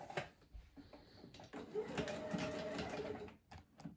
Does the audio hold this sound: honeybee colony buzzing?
no